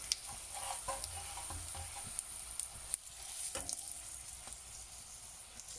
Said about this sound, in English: Give it a nice gentle stir.